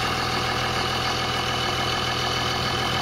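A tractor engine idling in Farming Simulator 19, a steady, even mechanical drone with a constant hum, close and unchanging for three seconds, with no voices.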